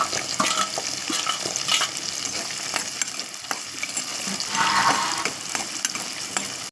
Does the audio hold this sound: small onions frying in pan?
yes